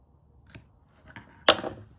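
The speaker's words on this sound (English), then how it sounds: "I'm going to do another little snip up here" Scissors snip paper in three short cuts, the last one crisp and loudest, close up and without speech.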